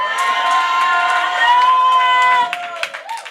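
A church congregation cheers and acclaims together in loud, sustained mixed shouting and whooping that thins out into scattered calls near the end.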